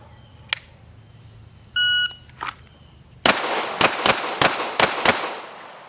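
Pistol shots from a Glock on a backyard range, one 9mm and one .22 LR: after a few electronic timer beeps, six sharp cracks fire in a quick, slightly uneven string, close and loud.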